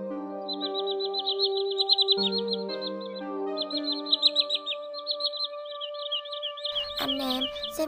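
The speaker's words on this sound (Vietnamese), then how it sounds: "bản tất cả các loại tiếng chim di cư mới nhất" Common greenshank and other migratory birds call in a cleaned, edited lure recording, with repeated high chirping phrases over sustained tonal whistles, fairly loud and continuous, ending in a brief burst of noise.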